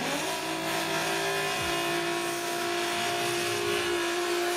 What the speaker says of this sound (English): Nice big smoky burnout there for Jacob.